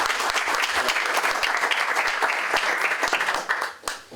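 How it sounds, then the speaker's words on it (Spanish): Enthusiastic audience applause at an evening book presentation, dense and steady clapping from a room full of people that fades out near the end. "Recibimos con fuertes aplausos"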